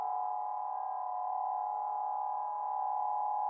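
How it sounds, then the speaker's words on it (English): Ableton Wavetable synth filter self-oscillating through echo feedback gives a steady, pure high-pitched tone, sustained at an even level without a break and with no voices. "They keep looping back inside the echo to create that high-pitched sound,"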